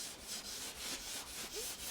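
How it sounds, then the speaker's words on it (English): Fine sandpaper wrapped around a rounded carpenter pencil rubs back and forth through a groove in a new snowboard's sidewall, making soft, close, rhythmic scratchy strokes at a steady pace. "take some fine sandpaper, a tiny piece, and wrap that around something round"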